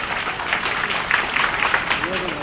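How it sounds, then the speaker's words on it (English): Applause from a conference audience aboard a cruise ship, a steady broad wash of clapping under continuous voices, moderately loud throughout the short burst. "A round of applause for the non-AKMG friends of ours."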